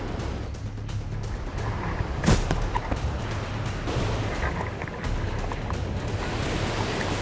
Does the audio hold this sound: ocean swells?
yes